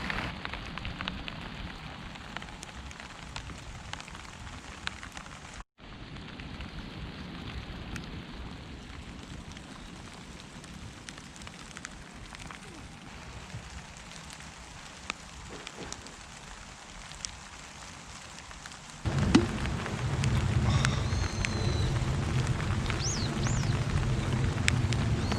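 Steady rain falls on an allotment in Tokyo, a continuous close patter of drops that grows heavier and louder toward the end, with no voices.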